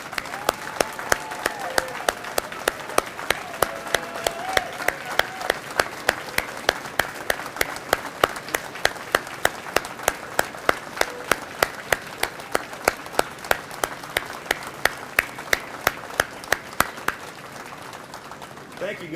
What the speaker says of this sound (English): Please give a big round of applause to our heroes here today, our wounded warriors that have joined us.